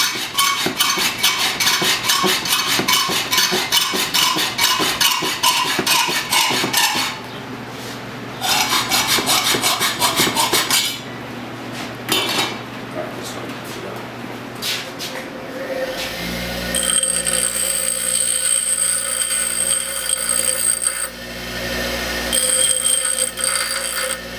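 A length of 3/8-inch threaded rod being cut by hand for a wine bottle tiki torch build, giving a steady rasping, scraping stroke that runs on and off through the clip at close range, with the tone shifting partway through.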